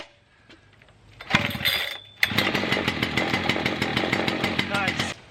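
A large professional chainsaw, a Husqvarna 3120XP or Stihl MS 881, is restarted: a brief pull-cord rasp, a pause, then the engine fires and idles loudly with a steady rattling drone.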